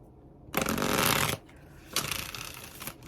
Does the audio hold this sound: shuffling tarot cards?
yes